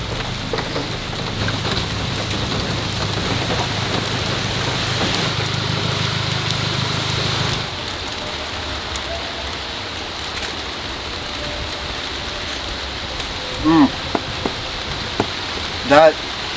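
Steady rain falls during a trip in Germany, a dense hiss that thins after about seven seconds, leaving softer patter with a few brief knocks near the end.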